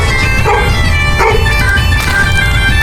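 A dog yips and barks excitedly in short bursts, close and loud over a busy, noisy background.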